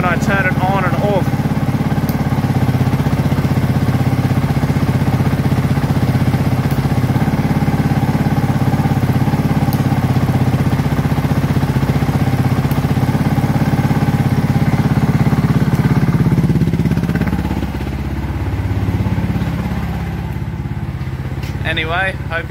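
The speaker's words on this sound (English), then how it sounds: "Hear the change in the engine from when I turn it on and off." A Honda CRF450L motorcycle engine runs steadily near at a constant idle-like drone with its decel fuel cut being switched on and off, the tone shifting and dropping toward the end.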